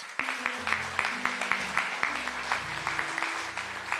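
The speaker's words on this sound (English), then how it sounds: "Let me give him another round of applause." Audience applause at an African American Contractors Day event, a moderate patter of claps over background music with sustained tones, fairly distant and even throughout.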